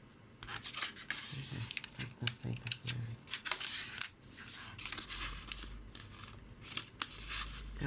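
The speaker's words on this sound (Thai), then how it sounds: "เราก็จะพับ กลับไปกลับมา อย่างนี้นะคะ พับกลับไปกลับมา ต้องให้แนวตรงกันนะคะ" Paper banknote folded back and forth repeatedly into a lucky fish shape, giving close, crisp crinkling and rubbing rustles in irregular bursts with occasional light taps, no voices.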